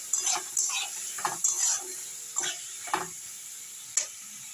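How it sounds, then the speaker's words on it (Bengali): Onion, garlic paste, tomato and green chilli fry in a kadai while a spoon stirs in short bursts, each sharp scrape over a quiet sizzle. "এইভাবে নেড়ে একটু ভালো করে ভেজে নেব।"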